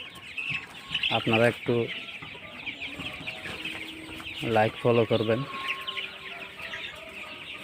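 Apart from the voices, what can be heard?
tiger chickens clucking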